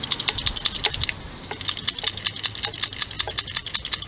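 A Honda D15B7 PCV valve shaken by hand gives quick, sharp clicking rattles in rapid irregular bursts, close and fairly loud, with a brief pause before the rattling resumes at a steady pace.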